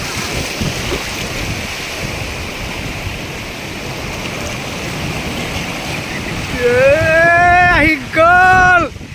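Sea waves wash steadily onto Kanyakumari beach with a broad roar and wind buffeting the microphone. Near the end a brief, louder tonal sound cuts in over the surf.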